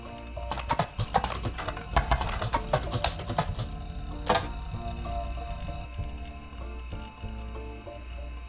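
Rapid typing on a computer keyboard during a search in a detective puzzle game, with dense bursts of key clicks in the first half, then lighter, sparser taps over a steady background hum.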